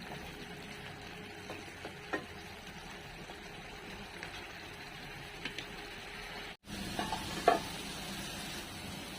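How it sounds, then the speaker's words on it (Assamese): Masala frying in a pan with fried potatoes and taro for a fish curry, a quiet continuous sizzle with faint stirring taps and a short break. "এয়া মছলাখিনি ভজা ভজা হৈ আছে"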